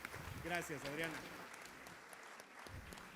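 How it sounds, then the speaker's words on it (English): Applause from the audience at an international pensions forum, a soft continuous patter of clapping heard from a distance, with a voice speaking over it early on. "Round of applause for Adriana Rangel from Vanguard."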